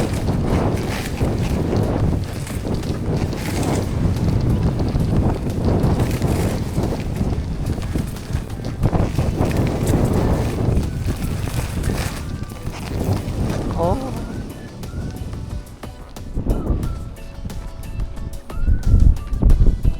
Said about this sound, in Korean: 바람이 많이 불어서